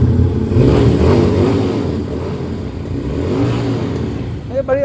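A V-twin heavy motorcycle engine with chrome plating revs up and settles in a dealer's stock yard, its rising and falling drone steady and fairly loud, with voices talking over it and a brief sharper rev at the end.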